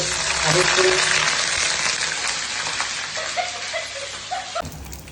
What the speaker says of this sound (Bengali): তেলটা গরম করে নিলাম তারপর ফ্রেঞ্চ ফ্রাইগুলো ছেড়ে দিয়েছি এখন এটা ভাজা হচ্ছে